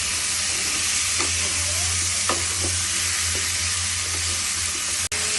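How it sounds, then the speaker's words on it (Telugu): Cluster beans fry in a pan with a steady, loud sizzle and hiss while a spoon stirs them, adding a few scraping strokes and a sharp clack near the end, close up and without speech. "ఇలా మొత్తం మిక్స్ చేసుకోవాలి"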